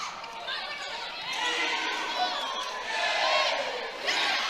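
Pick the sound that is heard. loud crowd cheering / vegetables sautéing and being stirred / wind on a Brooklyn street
loud crowd cheering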